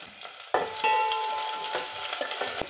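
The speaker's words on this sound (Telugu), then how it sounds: "ఆవాలు వేసుకోవాలి, జీలకర్ర వేసుకోవాలి, కొన్ని మెంతులు వేసుకోవాలి, ఎండుమిరపకాయ ఒకటి వేసుకోవాలి" Mustard, cumin and fenugreek seeds with one dried red chili hitting hot oil for a Nellore-style sambar tempering, a sudden sizzle that swells and then settles into crackling pops, close and without talk.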